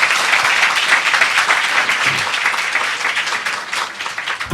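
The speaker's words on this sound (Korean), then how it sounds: "네, 박수 부탁드립니다." Studio audience at a Korean talk show applauding, a loud, sustained wash of clapping that holds steady and then eases slightly toward the end.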